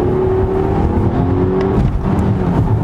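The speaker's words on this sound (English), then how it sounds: "we really want to see what it'll do when you put your foot down" A 2018 Volvo XC60 T8 all-wheel-drive hybrid with 400 horsepower accelerating hard, its engine note rising in a smooth, loud, close drone over a few seconds with tire and road roar beneath.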